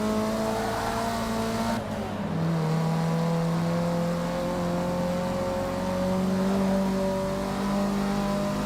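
A race car engine in Forza Motorsport 6 climbs steadily in pitch as it accelerates, with a brief gear shift early on and other cars droning close behind.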